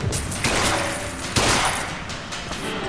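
Rapid bursts of gunfire from a first-person shooter, Bioshock Infinite, fill the scene loud and dense, with a sharper volley standing out partway through and no talking over it.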